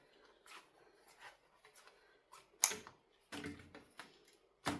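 Soft, close snips of scissors cutting through thin yufka pastry sheets, several irregular crisp cuts with quiet pauses between them.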